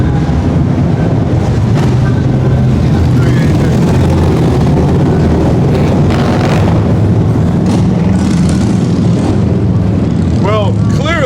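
A motorcycle gang rides past in a loud, continuous engine roar that lasts about eleven seconds. A voice speaks briefly near the end.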